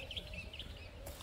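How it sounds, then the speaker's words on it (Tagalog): Doves and crows calling outdoors in Jerusalem, a few faint, brief chirps and calls that sound distant and quiet against a soft background hush. "Ang mga maririnig mo dito is mga huni ng doves and crow"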